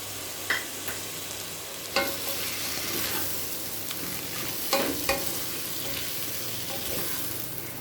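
Carrots, beans and potatoes stir-fry for veg biryani with a bright, constant sizzle, punctuated by several sharp scrapes and taps of a spoon against the pan, close up and without speech.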